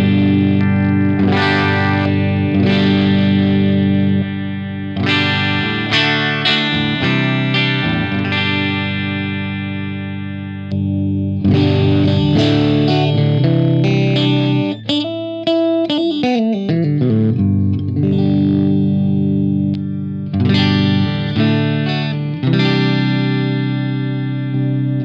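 Ibanez AZ electric guitar played through an amp with effects, switching pickup settings across strummed chords and single-note runs; loud, sustained distorted and chorused tones in several phrases with brief pauses, no talking.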